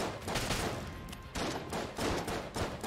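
Grenades exploding in the video game Enter The Gungeon, a few loud blasts in quick succession with dense crackling bursts.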